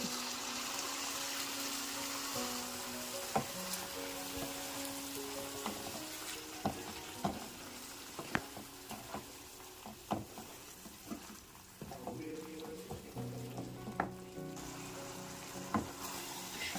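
Ground masala fries in ghee in a pan for mushroom ghee roast, with a soft continuous sizzle and scattered clicks and scrapes of a spoon stirring nearby, fairly quiet throughout.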